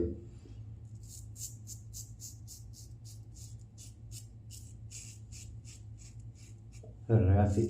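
Straight razor (Rasoigoodfellas Styletto 0.85) scraping through soap lather against the grain, a rapid series of short raspy strokes close up over a steady low hum, ending with a louder burst.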